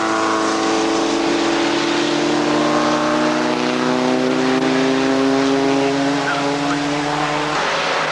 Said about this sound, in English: First lap, and it's Chris Marius in the Ford Escort from David Ellis in the big Aston Martin